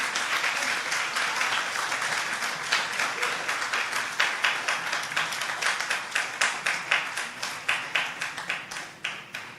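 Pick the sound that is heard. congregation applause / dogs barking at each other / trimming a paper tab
congregation applause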